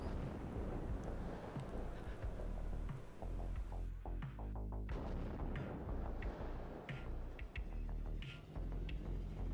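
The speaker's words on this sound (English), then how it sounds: "Will likely be hit by artillery soon." Artillery fire in the WARNO real-time strategy game, a steady rumbling barrage of booms and mechanical clatter with sharp impacts scattered throughout, no talking.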